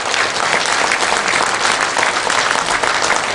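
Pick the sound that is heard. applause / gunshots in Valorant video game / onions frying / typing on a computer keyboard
applause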